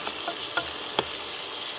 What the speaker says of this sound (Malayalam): അതിലേക്ക് നമ്മൾ തക്കാളി, വെട്ടിവെച്ച തക്കാളി ചേർക്കുകയാണ്.